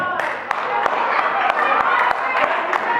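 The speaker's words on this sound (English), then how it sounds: "And we got a husband clapping back there," One man somewhere in a church audience claps sharply and evenly, each clap distinct, under the continuous talk of a preacher delivering a sermon.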